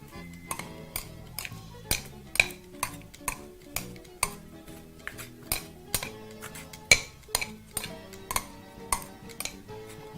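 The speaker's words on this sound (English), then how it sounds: "proceed to mix everything together with a pair of tongs" A pair of tongs tosses a lettuce salad in a bowl, with a run of irregular metallic clicks and light clinks over soft rustling, close and moderately loud.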